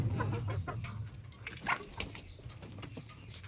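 Young chickens cluck and peep in a home yard, a scattered run of short calls near and at moderate volume over faint background noise.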